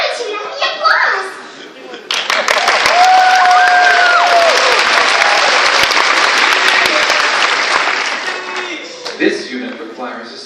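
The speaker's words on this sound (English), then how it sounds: "He bows in gratitude at the applause." A large convention crowd at MegaCon 2013 bursts into loud, sustained applause with cheers and whistles for a costumed Bilbo bowing on a stool, swelling after a quieter start and tapering near the end with scattered voices.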